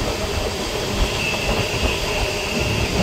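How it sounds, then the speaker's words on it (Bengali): The Tamralipta Express (12858) runs through Kolaghat station, a loud continuous rumble of rolling wagons heard from onboard, with rhythmic wheel clatter and a faint high squeal. "এই যে ট্রেন কোলাঘাট স্টেশন ক্রস করছে"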